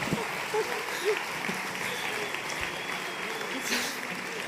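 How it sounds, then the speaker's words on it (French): Applause from the audience at a Socialist Party congress, steady and fairly distant, filling the hall with a few voices murmuring underneath. "Applaudissez-la"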